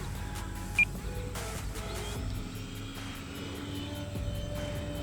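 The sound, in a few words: E-Flite Commander 4S RC plane flying overhead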